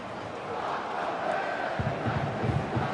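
Murmuring stadium crowd of about 15,000 fans at Allianz Stadium during an early Saturday evening A-League football match, Sydney FC against Melbourne City, a steady broad roar that swells slightly with low rumbling bursts toward the end.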